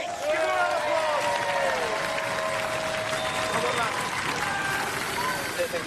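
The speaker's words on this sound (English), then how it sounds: "give them a round of applause" A crowd at a robot combat arena applauds continuously under a loud, busy background with some talk and a drawn-out whining tone mixed in.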